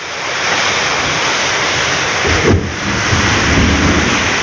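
Heavy rain pours down steadily in a dense, loud roar, with no voices.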